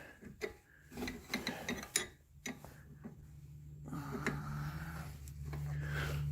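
A 14 mm wrench turns the inner tie rod on a 2013 CFMOTO Z6 Z Force UTV, giving a burst of sharp metallic clicks and knocks that settles into a faint steady low hum.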